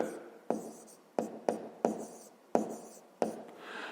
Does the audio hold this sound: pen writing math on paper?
yes